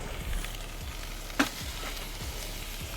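Chicken pieces sizzling on a grill under an upside-down cookie pan, a steady low frying hiss with one sharp brief crackle partway through and soft scraping thuds.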